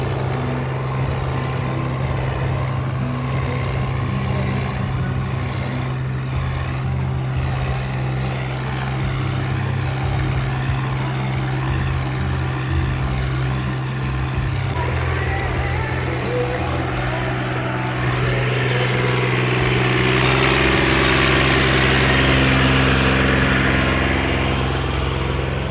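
A Massey tractor engine idles with a loud, steady low rumble close by, its tone shifting slightly partway through.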